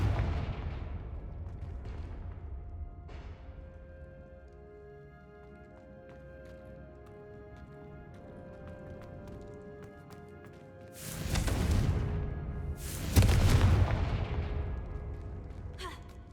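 Confringo fire spell explosions in the video game Hogwarts Legacy, two loud booming blasts close together near the end after a quiet ambient stretch of soft game music.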